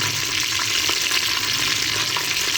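Whole spices, bay leaves and star anise sizzle steadily in hot oil for a beef korma, a dense continuous frying hiss with faint crackles, close and alone.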